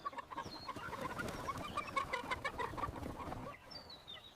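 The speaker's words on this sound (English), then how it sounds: "The chickens love their new home." Several farm chickens cluck and murmur in a busy, uneven chorus at moderate distance, with a few higher calls standing out, settling in their new coop.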